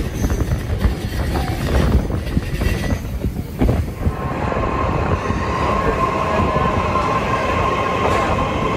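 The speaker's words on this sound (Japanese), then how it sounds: "この列車は内房線直通" A JR East train running through onto the Uchibo Line on the Boso Peninsula rumbles steadily from the inside, with a continuous loud roar and faint wheel squeal and track clatter.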